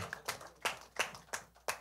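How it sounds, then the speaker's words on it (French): Slow, rhythmic hand clapping during a church praise session, about six distinct sharp claps spaced evenly, fairly quiet and close, with no talking over them. "On va encore acclamer pour Jésus quand même."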